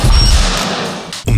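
A laptop being smashed on an angry-mom rage day, a loud crashing blow with lingering clatter, followed by a sharp second hit near the end.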